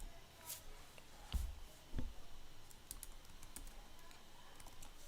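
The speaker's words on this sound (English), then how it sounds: "I'll type in cross" Quiet typing on a computer keyboard, a few scattered key clicks with a couple of heavier presses, faint and close, no talk.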